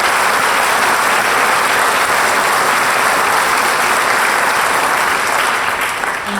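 Sustained audience applause at a fall school choir concert, dense and steady throughout, loud and near, fading slightly at the end.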